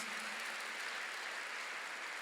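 Church congregation applauding together, a steady dense wash of clapping that fills the space evenly from start to finish, with no voices rising above it.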